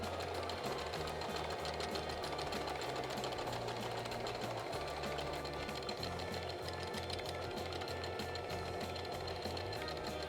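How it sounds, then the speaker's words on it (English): A sewing machine runs steadily, stitching a garment lining to its main fabric along the top edge of a waistband, a continuous rapid mechanical whir with rhythmic needle patter for the whole stretch, close and fairly quiet. "I stitched the lining to the main fabric along the top"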